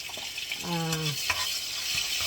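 Garlic frying in a pan for a bean and kale vegetable dish, a steady close sizzle. A short voice-like tone sits over it partway through.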